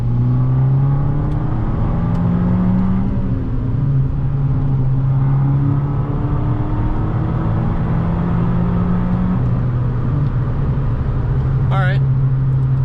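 Inside an Abarth fitted with a Racechip tuning module, the engine drones steadily while the car accelerates, with the rising hum heard from the cabin throughout.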